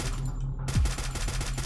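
A silenced gun fires in the mobile battle royale game Free Fire, a short rapid string of muffled shots pulsing over a steady game background hum, fairly close and moderately loud.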